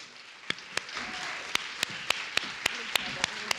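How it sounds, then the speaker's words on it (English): Scattered audience claps for panelists on stage ring out as sharp, evenly spaced hand claps over a soft murmur of voices and room noise. "I'd like to welcome all the panelists back out onto the stage for a final round of applause."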